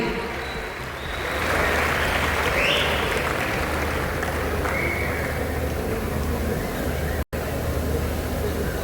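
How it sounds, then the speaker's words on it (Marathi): An audience applauds at a Marathi theatre performance during a literary convention, sustained dense clapping heard close and loud that keeps going steadily with little variation. "मला वाटत नाही टाळ्या थांबल्या पाहिजेत."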